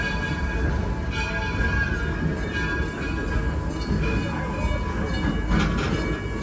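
Riding aboard an Edison train heading to Firestone station, with loud continuous rumble of the railroad car, steady clickety-clack of wheels on track and faint squeals, no talk.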